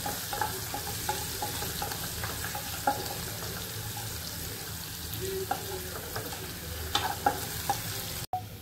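Finely chopped garlic stir-fries in a pan for a mixed vegetable dish, making a continuous sizzle broken by scraping spoon strokes and small clinks, close by with a brief knock near the end and no talk.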